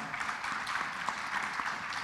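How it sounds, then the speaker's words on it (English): An audience at a forum panel session gives the panelists a round of applause, a soft, even wash of clapping heard from a distance, faint and sustained. "Please give them a round of applause."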